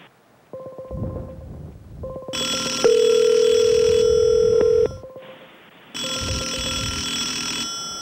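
Several telephones ring at once in overlapping electronic tones. Short ringing bursts start and stop, and a long steady tone holds for about two seconds before the layered ringing picks up again.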